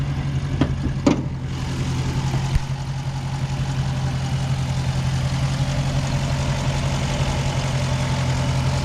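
A 2016 Dodge Challenger R/T Scatpack with its 392 Hemi V8 idles steadily at close range, a deep even rumble, preceded by a couple of sharp clicks or thumps near the start, with no talk.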